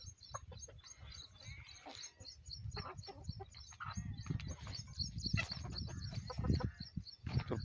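A flock of free-range five-month-old country chickens clucks and murmurs continuously, with overlapping calls near and far against a steady farmyard background, and no talk.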